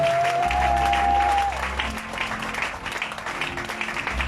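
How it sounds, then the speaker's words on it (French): A church congregation applauds loudly and steadily, a dense wash of clapping that stays strong throughout, with a faint voice or tone briefly audible near the start. "Est-ce qu'on peut acclamer le Seigneur très fort?"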